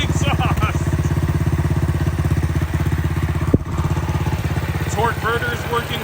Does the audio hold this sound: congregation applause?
no